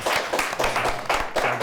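A small studio audience claps for the winning team of a school quiz show, a sparse, uneven patter of a few hands with distinct individual claps in irregular bursts.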